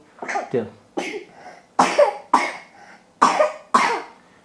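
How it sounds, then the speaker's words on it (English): Someone coughs repeatedly up close, six or so sharp, hoarse bursts in quick uneven succession with short gaps between them. "another coughing episode"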